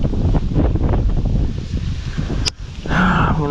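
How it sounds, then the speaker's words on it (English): Wind picking up on the French Broad River near Knoxville, Tennessee, heard from a kayak as steady buffeting gusts roaring across the microphone, with a brief lull before the blustery rush returns. "Wind's picking up."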